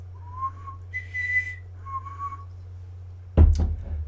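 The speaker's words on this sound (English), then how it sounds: "this also happens when you whistle, since your mouth is acting just like a bottle" Pure-tone whistling from a person's mouth, a few short steady notes at shifting pitch, quiet and clear with no talking, ending in a brief thump.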